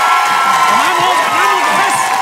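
Crowd at a band face-off roaring for one of the bands, loud sustained cheers, whoops and clapping with rising, swooping shouts over a thick wall of noise.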